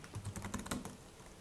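Ctrl+X, Y and Enter are typed on a computer keyboard, a brief cluster of soft, quick key clicks, faint and close, with nobody speaking.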